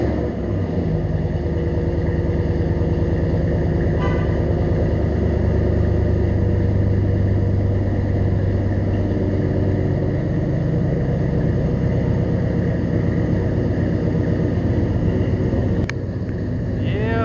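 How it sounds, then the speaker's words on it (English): A Ram R/T engine fitted with a J Greene cam idles with a loud, steady, deep lumpy rumble, recorded close and unbroken throughout, with a brief faint voice in the background. "Listen to that J Greene cam talking."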